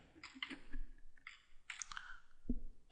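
Slow, irregular clicks of keys being typed on a computer keyboard, a handful of close, distinct keystrokes with pauses between them and no speech.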